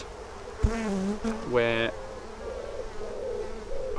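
Honey bees in an open hive during an inspection, a steady close buzzing throughout, with a voice briefly speaking over it.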